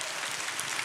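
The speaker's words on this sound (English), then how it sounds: "Let's clap for that." An audience claps in a dense, steady wash of applause that stays even and fairly close for the whole short stretch, with no speech over it.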